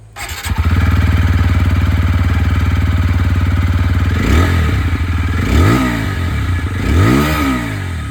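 A TVS Apache RTR 160 4V motorcycle with a bullpup exhaust starts and settles into a loud, steady burbling idle, then gets several short throttle blips that rise and fall.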